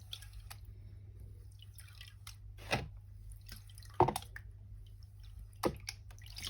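Paydirt from Scotland being gently washed with water in a gold pan gives a few sparse, close drips and small splashes over a steady low hum, with quiet gaps between them.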